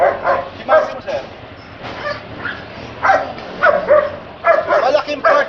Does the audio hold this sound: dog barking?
yes